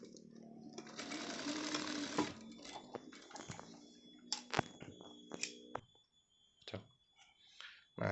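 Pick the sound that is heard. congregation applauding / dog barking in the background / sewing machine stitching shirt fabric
sewing machine stitching shirt fabric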